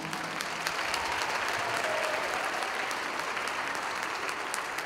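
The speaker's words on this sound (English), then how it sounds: "let's give another round of applause for our choir director, Mrs. Lynn Danoff." Steady applause from a concert audience at a high school spring choral concert, honoring the choir director, heard as an even wash of many hands clapping at moderate distance for the full stretch.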